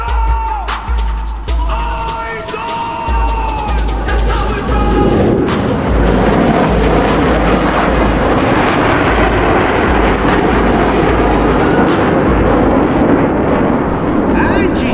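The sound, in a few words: F-16 fighter jet flying a triple aileron roll at an airshow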